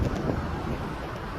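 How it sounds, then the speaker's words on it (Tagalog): Wind blowing by the water on the Abu Dhabi corniche near Marina Mall, a steady low rumbling gust buffeting the microphone, with faint traffic in the background. "Mahangin ngayon"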